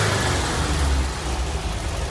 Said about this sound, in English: Engine especially, running very nice, idling very nice.